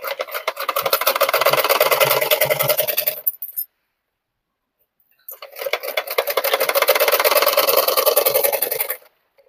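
A sewing machine stitches a double katori blouse in two runs of fast, rhythmic mechanical clatter separated by a silent gap of about two seconds, close and loud, with no talking.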